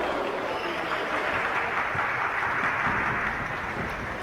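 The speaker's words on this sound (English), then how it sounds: "Crowd is enjoying this match" Arena crowd in the WWE 2K22 wrestling video game, a steady wash of cheering and applause that holds at an even level throughout.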